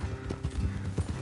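Horse hooves clip-clop in a quick trotting rhythm in the video game Red Dead Redemption 2, close and fairly soft, with no voices.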